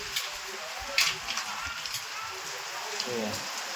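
Steady rain hiss with gusty wind noise during a strong storm, a few louder crackling bursts, and a voice talking faintly underneath.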